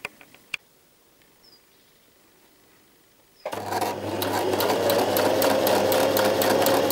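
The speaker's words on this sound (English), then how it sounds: "we're going to do that with our sewing machine" A sewing machine straight-stitches a fabric patch onto a patchwork cat. After a few quiet clicks it starts with a sudden steady, loud whirring hum and rapid needle chatter that continues to the end.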